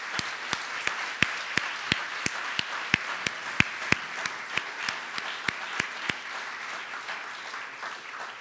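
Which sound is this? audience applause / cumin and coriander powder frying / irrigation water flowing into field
audience applause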